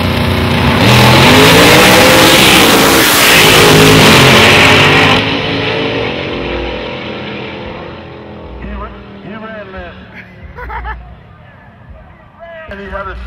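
A Chevrolet-engined grudge race car launches hard and accelerates, a loud, rising roar that fills the first five seconds, then fades into the distance under crowd noise and voices.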